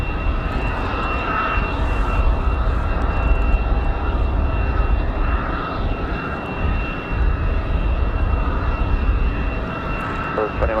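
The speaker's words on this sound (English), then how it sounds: "that next arrival from Indianapolis coming up right now. The CRJ 900." A CRJ 900 jet arriving from Indianapolis at Raleigh Durham airport produces a loud, sustained engine roar with a steady whine, heard on a windy day.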